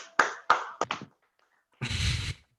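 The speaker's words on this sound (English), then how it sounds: "Now clap, damn it." Several sharp hand claps in a quick uneven burst, then a longer rough patter of clapping from a small group in a podcast studio, close and fairly loud.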